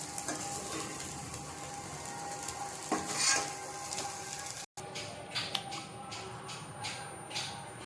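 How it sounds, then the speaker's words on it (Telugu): Soya chunks fry with salt and chilli in a pan, giving a soft steady sizzle with occasional stirring scrapes and utensil clicks, quiet and close, with a brief cut partway through. "కొంచెం ఫ్రై చేసుకోండి, ఉప్పు కారం వాటికి పట్టేలాగా."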